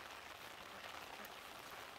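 Steady, soft rain hisses evenly on a surface, a dense patter with no voices.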